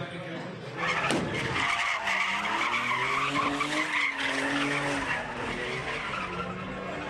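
Cars skid and squeal their tires at a street takeover in Pacoima, with continuous screeching rubber and revving engines over crowd noise and shouting, loud and sustained throughout.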